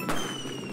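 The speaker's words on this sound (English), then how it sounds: "Oh, it's firecrackers." Firecrackers popping in Super Mario Bros. Wonder: a sharp crackling burst at the start trailing into a bright, fizzing sizzle with steady high sustained tones underneath, all within a brief moment.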